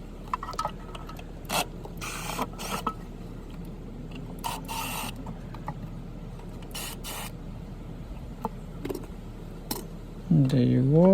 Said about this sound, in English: you can remove the rear bolts, like the way I'm doing right now.